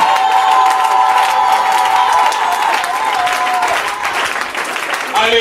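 Church congregation applauding and cheering steadily during a French-language sermon, a dense, continuous wash of clapping with a sustained tone running underneath, easing slightly toward the end.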